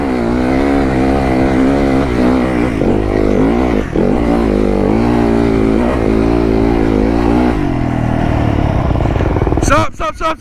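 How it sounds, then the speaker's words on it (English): A motorcycle engine revs hard and steadily, loud and close, holding a high droning pitch with rising and falling throttle surges, then cuts off near the end as brief knocks and a voice break in; talk runs over it throughout. "Bike sounds good, son."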